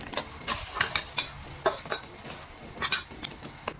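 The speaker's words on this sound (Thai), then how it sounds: "ระหว่างนี้เราก็ค่อยๆ พลิกไข่เจียวของเราจนกว่าไข่เจียวของเราจะสุกนะครับ" Omelette frying in a pan and being turned, with sharp metal clinks and scrapes of the utensil against the pan in an irregular sequence, close by, with a faint sizzle underneath.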